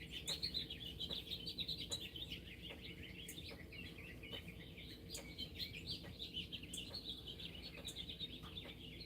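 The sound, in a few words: birds singing at dawn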